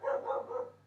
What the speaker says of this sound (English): I apologize for my stupid dog in the background.